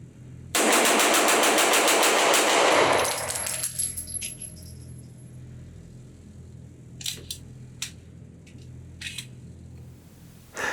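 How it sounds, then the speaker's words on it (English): Atlas Gunworks Athena 2011-style pistol fired in a rapid magazine dump at a range, a dense, loud burst of shots about three seconds long, followed by ringing, brass tinkling and scattered clicks. "going to load up one of these magazines and just simply shoot this gun as fast as I possibly can"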